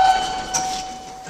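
A passing train rumbles steadily with a faint whistle-like tone near the start, heard briefly with no talking.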